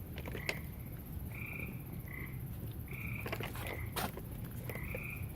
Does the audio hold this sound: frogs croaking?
yes